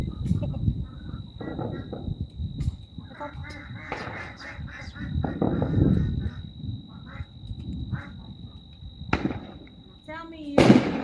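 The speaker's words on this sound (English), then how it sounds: "You get the little duckies in the background." Ducks quacking in bursts in the background during a Fourth of July fireworks evening, mixed with people talking nearby, distant pops and a sharp crackle near the end.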